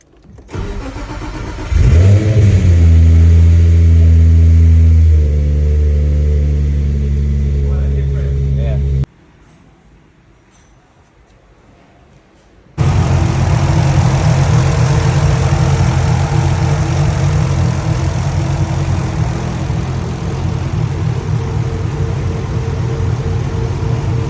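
A Subaru WRX VB engine after a VCT cam gear swap: a loud, close engine rumbles and revs, cuts out into a few seconds of near-quiet, then starts again and runs steadily and heavily to the end.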